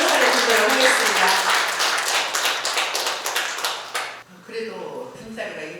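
An audience at an inauguration ceremony for a literary society's presidents claps together in a dense burst of applause that fades, then a few scattered claps continue near the end.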